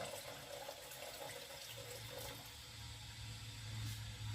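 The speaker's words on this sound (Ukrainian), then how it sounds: "І ось тепер я додаю маленькою цівочкою потрішечки на на крайочок каструлі додаю оцет, щоб не дуже кипіло." Vinegar trickles in a thin stream down the edge of a pot of hot marinade for honeyed pickled cucumbers, a soft continuous liquid pour over a low steady hum.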